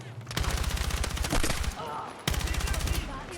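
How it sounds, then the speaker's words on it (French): Rapid automatic gunfire from a Battlefield 6 match, loud and sustained in two long bursts with a brief break, under faint voices and game noise. "Je tire partout sauf sur le gars."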